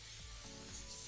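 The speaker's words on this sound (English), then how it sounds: "I'm gonna take a leaf shine and I'm going to spray this off like this." Leaf shine aerosol sprayed onto artificial floral berries, a close, continuous hiss that holds steady for about a second.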